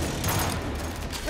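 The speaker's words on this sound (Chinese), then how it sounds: "需要装填弹药" Weapon reloading in the shooter Gears 5, a quick series of metallic mechanical clicks and clacks over battle ambience, close and fairly loud.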